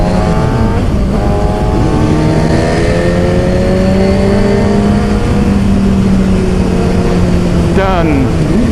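A car accelerates hard to overtake another vehicle, heard from inside. The engine note climbs steadily and loudly, with a quick gear change near the end.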